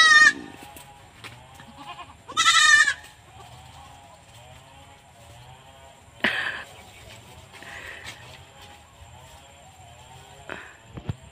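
Goat bleating on a farm, several loud calls near the start with quieter bleats and other farm animal sounds later.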